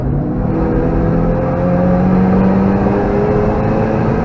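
A race car at full power on the Nürburgring, heard onboard as a loud, steady engine drone with rising pitch and a constant rumble.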